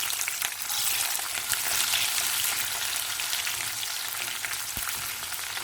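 Onion fries in hot oil with fenugreek, fennel seeds and dried and green chillies, a steady close crackling sizzle with occasional stirring scrapes and one sharp knock, no talk.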